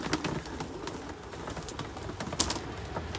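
Racing pigeons softly cooing in crates during basketing for an 80-mile sprint race, short intermittent coos over a busy, noisy background with clatter.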